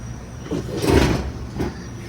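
A power drawer on a tool box slides open with a short rolling rumble and a soft thud, followed by a lighter second slide; no talk.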